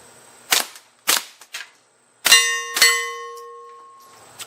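A suppressed Rossi .22LR rifle fires Remington subsonic rounds, two soft muffled shots into dirt followed by two shots striking steel that ring out with a bright, lingering metallic ping, close and clear.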